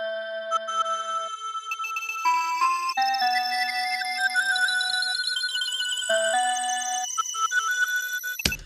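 A resampled sound run through a crystallizer texture effect plays as bright, glassy chiming tones that step between pitches in a shimmering, bell-like sequence, then cut off abruptly at the end.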